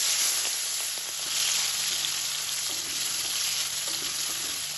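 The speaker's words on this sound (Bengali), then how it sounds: "তেলটা গরম হয়ে গেছে, এখন আমি লবণ হলুদ মাখিয়ে রাখা চিংড়ি মাছটা দিয়ে দিলাম।" Prawns coated in salt and turmeric hit hot mustard oil in a wok, giving a loud, continuous crackling sizzle with a few light stirring knocks and no voices.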